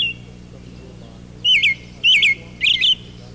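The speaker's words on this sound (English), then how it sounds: "a robin serenades us from the woodlot" A robin sings from a woodlot in three clear, warbling phrases spaced about half a second apart, fairly close and bright over a quiet background hum.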